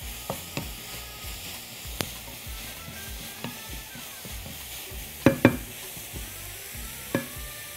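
Meat frying in a pan, a steady soft sizzle broken by scattered clicks and scrapes of stirring, a couple of sharper clatters near the end, no talking.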